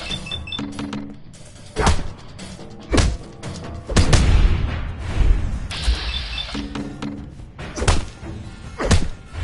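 Punches landing in a Fallout 4 fistfight, a series of heavy, close thuds and whacks spaced a second or two apart, with grunting between blows.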